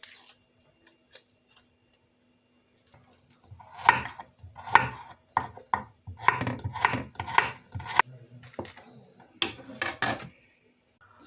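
Large garlic cloves being sliced thinly with a knife on a cutting board, sparse taps at first, then a quick run of rhythmic chopping knocks with brief pauses, close and clear, no talking.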